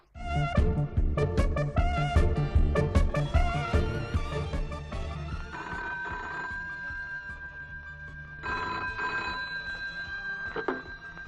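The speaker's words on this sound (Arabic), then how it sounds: "تليفون" A classic telephone bell rings in repeated loud bursts in an Egyptian radio drama, a comedy serial, with the ringing dominating the first seconds before fading into a steadier tone and background sounds.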